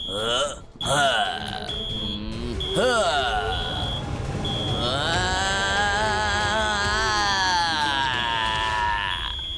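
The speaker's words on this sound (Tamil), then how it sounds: "ஏன்னா அலாரம் இப்பவும் வேலை செய்யுது" A high, steady electronic alarm tone sounds repeatedly while animated voices groan and call out over it.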